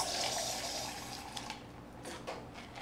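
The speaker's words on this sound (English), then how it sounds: "So after I strain the cocktail over fresh ice" A cocktail is strained from a shaker into a highball glass over fresh ice with club soda, giving a soft, continuous pour and splash, fairly quiet and close, with a few faint clinks near the end.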